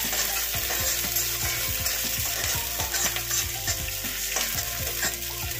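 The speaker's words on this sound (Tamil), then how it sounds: "இதெல்லாம் தாளிச்சிடுவோம்" Mustard seeds and spices crackle and sizzle in hot oil for sesame rice, a dense, continuous hiss punctuated by stirring clinks and pops.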